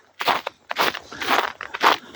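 Crunchy footsteps on gravel or dry ground, several quick steps in an uneven walking rhythm, close by with no voices.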